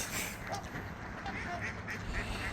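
Faint ducks quacking at a distance on a Minnesota lake over low outdoor background noise, a few scattered calls with no clear rhythm.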